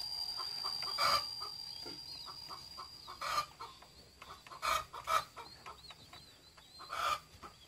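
Young green and red pheasant chicks in a pen, clucking and peeping in several short bursts scattered over the stretch, fairly close, with quieter chirping between them and no talking.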